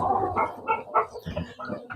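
A Thai fighting rooster makes short, clucking calls in quick bursts at close range, with a voice talking softly underneath.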